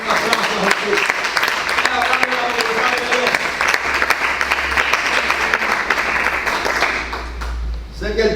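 A church audience applauds for the Lord with continuous, lively clapping close and loud, low murmuring voices mixed in, tapering off near the end.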